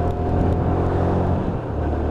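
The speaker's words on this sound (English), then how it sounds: "So just pulling through the gearbox on this, in the second, third," A UM Vegas 125cc motorcycle engine pulls through the gears, a steady close buzzing drone that dips briefly near the end as a gear changes, with no talk.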